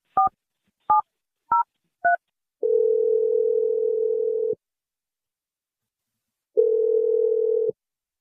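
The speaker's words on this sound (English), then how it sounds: "I'm going to dial her number right now" Telephone keypad tones beep four times in quick succession, followed by two long, steady ringback-style tones separated by silence, clear and close while dialing a number.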